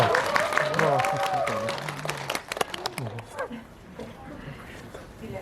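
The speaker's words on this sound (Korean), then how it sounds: "간단히 박수 부탁드리겠습니다" Cinema audience at a film Q&A session gives a short round of clapping under a speaking voice, the claps thinning out and fading after a few seconds.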